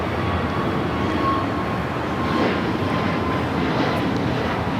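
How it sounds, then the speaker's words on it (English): Heavy jet airliner roaring on takeoff at LAX, a loud sustained broadband rumble that holds steady from a distance. "Back-to-back heavy takeoff."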